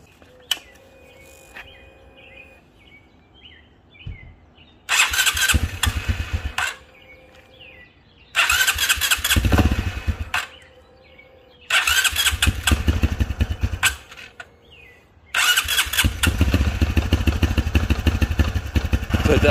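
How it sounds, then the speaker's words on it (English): A Honda Trail 125 (CT125) motorcycle, running rich after a fuel injector swap, is cranked repeatedly, catching in several loud bursts of starting and idling with uneven revving between quiet gaps where birds chirp. "We're gonna go ahead and start up the bike"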